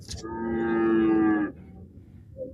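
A single long, loud moo from a native bull lasting over a second, near and clear, followed by quiet background at a cattle market.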